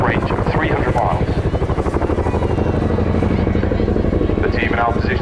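A helicopter hovers close overhead at the RAF Cosford airshow while setting down an underslung load, its rotor blades thumping in a fast, loud, steady beat over a droning engine.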